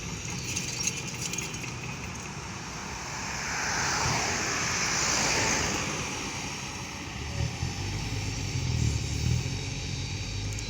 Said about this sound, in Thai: ฟังเสียงโบหวานหวานก่อนนะครับค่อยลาค่อยจบคลิปนะครับ